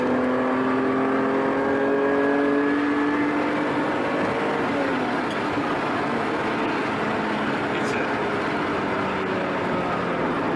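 A Ferrari Testarossa's flat-12 engine winds up during an overtake, its rising, layered tone heard from inside the car over steady road and wind roar, then settling into a sustained high drone.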